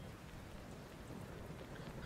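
Rain falling in a video game, a faint, steady, even hiss of drops with no voices and no distinct events, continuous from start to end.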